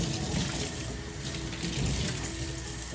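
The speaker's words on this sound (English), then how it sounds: "I'm gonna rinse out the tub." Tap water runs steadily and splashes into a seed tray tub as it is rinsed out, a close, continuous gush with no pauses for the full three seconds.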